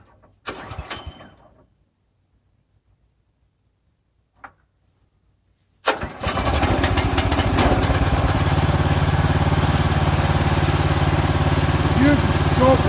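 The engine on a Timbery M100 portable sawmill cranks and fires up after a few brief clicks and handling noises, then settles into a loud, steady close-up idle that runs continuously.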